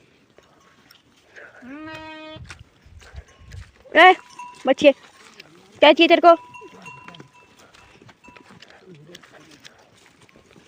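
Sheep and goats at a rural home farm in Mandi, Himachal Pradesh, bleat in a few short, close calls, with a person talking to the animals before and after and quiet farmyard noise in the background.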